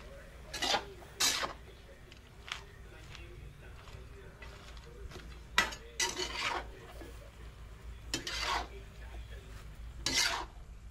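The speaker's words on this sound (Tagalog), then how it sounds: "Kunting halo-halo lang." Pancit noodles and vegetables being stirred in a small pan, a series of short scraping and rasping strokes with soft clinks at irregular intervals over a low steady background.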